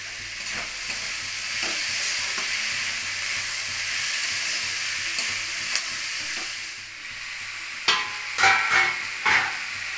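Ginger, garlic and chilli sizzling steadily in a hot pan, a continuous frying hiss with a few louder spits and stirring scrapes near the end, no voices.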